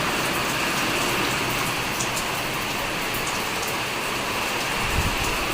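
Heavy rain pours steadily, a dense close hiss of drops hitting surfaces, with scattered louder splashes and no voices.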